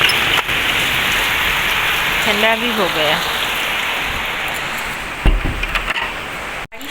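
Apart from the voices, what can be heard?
heavy rain falling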